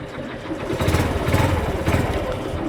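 A Yamaha YBR 125 motorcycle's engine starts and settles into a steady, loud rumble up close, with throbbing pulses running throughout and no talking.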